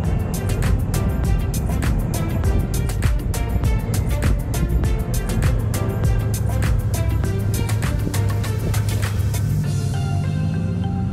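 Honda ST1300 touring motorcycle with over 100,000 miles riding in a group on Skyline Drive, a loud continuous engine drone with heavy wind rumble and steady rhythmic buffeting throughout.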